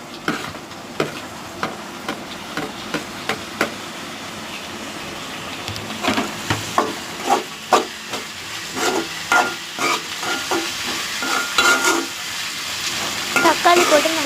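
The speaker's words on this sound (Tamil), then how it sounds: "இப்போ நல்லா வதங்கினதுக்கப்புறம் தக்காளியை போட்டுக்கலாம்." Tomatoes tipped into a pan of sautéed onion and green chilies, giving a steady frying sizzle with repeated sharp scrapes of stirring that grow busier and louder toward the end.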